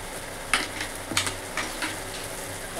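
Ground spices such as turmeric, coriander and cumin frying in oil in a pan for a vegetarian Bengali shukto, a steady sizzle with a few scraping stirs of a spoon.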